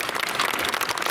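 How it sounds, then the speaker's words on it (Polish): Audience applause at the opening of the exhibition season aboard ORP Błyskawica in Gdynia, honouring the Polish Navy's representative orchestra, its conductor and musicians; a brief, dense burst of many hands clapping, fairly loud and steady. "Proszę o oklaski dla dowódcy orkiestry"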